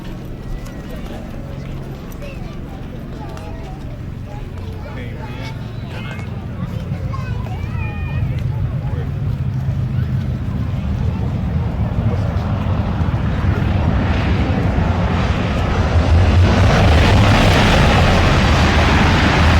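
Four piston engines of a Lockheed Super Constellation drone steadily in flight at dusk, a broad loud rumble that swells slightly over time, with people talking beneath it.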